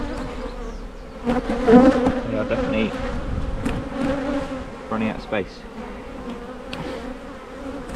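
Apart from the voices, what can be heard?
bees buzzing at a beehive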